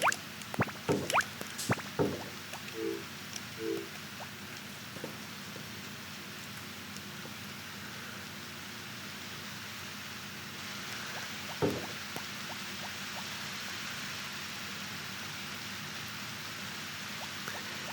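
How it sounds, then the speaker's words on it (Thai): Steady soft rain hiss fills a farming video game scene, a continuous even wash with a few brief clicks and thumps near the start and one around the middle, no voices. "วันนี้ฝนตกแบบนี้นะครับ"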